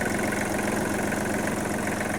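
A Kubota L1-215 tractor's three-cylinder diesel engine idles close by, a steady low chugging rumble with no voices.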